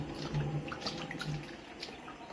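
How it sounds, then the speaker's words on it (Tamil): Water splashing and trickling while a stone mortar and dishes are washed, faint and close, with light drips and a couple of soft clinks. "நல்லா பளிச்சுன்னு தேய்ச்சி கழுவி எடுத்து வச்சிருவோம்"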